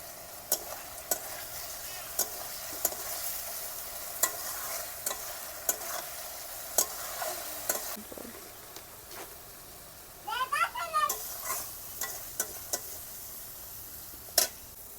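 Pangas fish frying in hot oil in a Bengali home kitchen: a steady sizzle runs throughout, broken by sharp ticks and clinks of a stirring utensil, with a brief burst of louder spattering midway.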